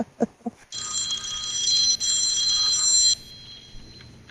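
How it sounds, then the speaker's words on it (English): A phone rings loudly during a broadcast, a sustained bright electronic ring of about two and a half seconds with a brief break near the middle, preceded by a few short knocks and followed by quiet room tone. "Someone's phone ringing during the middle of the broadcast."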